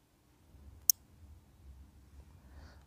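One sharp, crisp click of a computer mouse, close and brief, stands out against a low background hum and faint rustle.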